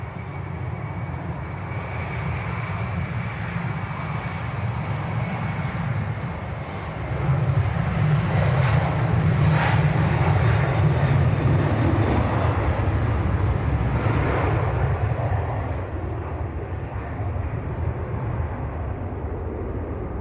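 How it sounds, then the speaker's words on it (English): Ryanair jet bound for Faro rolling down the runway at Leeds Bradford Airport, a broad steady engine roar that swells louder midway and holds, heard from a distance with no talk. "Now Ryanair to Faro starting the roll."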